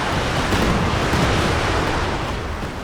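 A Werfer rocket artillery barrage in the World War II strategy game Company of Heroes 2 makes a dense, continuous roaring rush of noise, loud and unbroken, like a rolling wall of launches and blasts.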